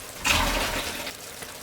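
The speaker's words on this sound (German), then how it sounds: "Jetzt tue ich den Wasser abgießen." Hot water from cooked pasta pours out of a pot in a kitchen, a sudden rushing splash that keeps draining for about a second and a half, close by with no talk.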